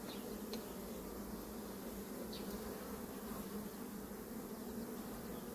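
Honeybees buzz steadily at a hive during a beekeeping inspection where the colony is stressed, a dense, continuous drone held close and even throughout, with no talk.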